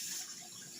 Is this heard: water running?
yes